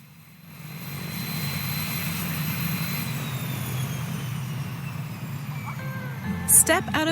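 An airplane arriving in Honolulu, Hawaii, gives a steady, moderate engine drone that swells after a quiet start, with a brief clatter just before the end.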